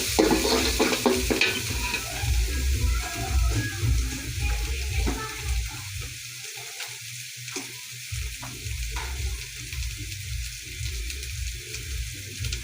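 Ground spices, including coriander powder, are sautéed in a pan for chicken bhuna khichuri. The sizzle is moderate and wet, with busy stirring scrapes and a low rumble that drops out briefly partway through. No one speaks.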